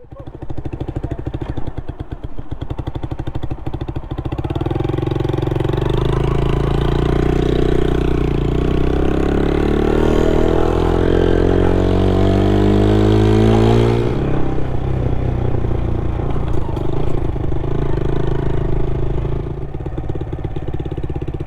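A Yamaha YZF R125 motorcycle engine runs with its exhaust nearby, a loud steady drone that swells and rises in pitch, then settles back to a steady running note.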